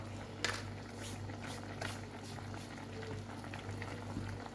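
Chicken blanquette simmers in a pot, bubbling steadily and softly throughout over a low, constant hum, with no voices.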